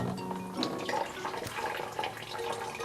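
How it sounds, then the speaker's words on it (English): Water pours and splashes into a cup during a children's puppet show, a short run of close, irregular trickling and splashing with no voices. "let's see what happens if I pour water into each of them."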